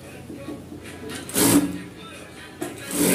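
A sewing machine stitches the shoulder seam of a dress in two short runs of buzzing mechanical whir, close by, with people talking around it.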